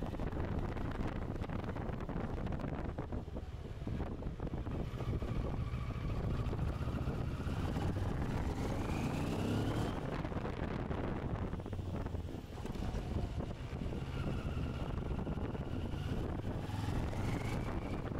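A CF Moto 650MT motorcycle riding under throttle, its engine note rising in pitch a few times beneath a constant heavy rush of wind buffeting the microphone.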